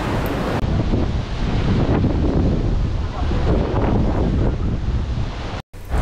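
Ocean surf roars continuously at a rocky shore in Cancún, Mexico, while strong wind buffets the microphone, a loud, rumbling wash of noise.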